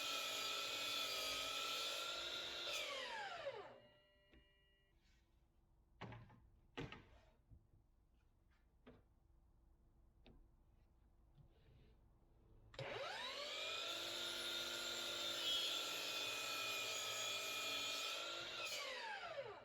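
A power saw cuts wooden sawhorse legs to length, its motor whining loudly through one long cut, then falling quiet for several seconds of soft wooden knocks and handling before a second sustained cut.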